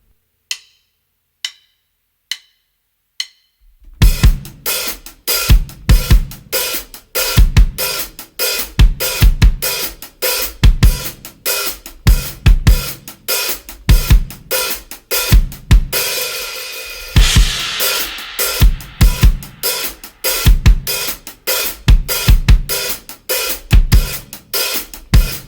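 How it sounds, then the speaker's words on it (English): Drum kit playing the bass drum pattern of a groove with hi-hats and no snare, opened by four sharp count-in clicks, then a steady driving rhythm of loud kick hits and ticking cymbals, with a brief washy cymbal swell midway. "do just the bass drum pattern with the hi-hats, and that is it. No snare drum yet"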